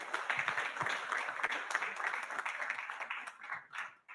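Audience at a youth financial literacy debate forum applauds the student participants, a lively burst of clapping with distinct individual hand claps that tapers off toward the end.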